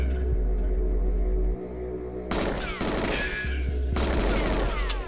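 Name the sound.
gun shooting at locks in GoldenEye 64 video game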